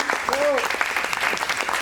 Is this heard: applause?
yes